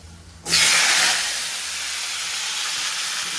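Panch phoron spices hit hot oil for a fish curry with a sudden loud, bright sizzle that bursts in after a quiet moment and keeps hissing steadily, easing slightly.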